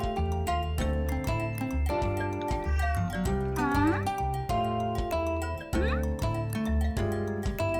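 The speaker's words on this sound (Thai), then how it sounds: "ที่บ้านเลี้ยงแมวนะคะ" A pet cat meows indoors, giving a couple of rising and falling meows that stand out over steady background music, with no talking.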